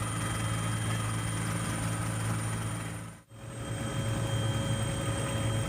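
A helicopter showering flowers over the Prayagraj ghats gives a steady, loud engine and rotor drone that briefly dips partway through, with no voices.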